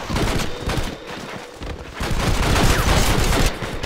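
Gunfire rattles through a video game gang match showdown, with rapid overlapping shots in dense bursts, a brief dip, then a louder sustained volley, all without speech.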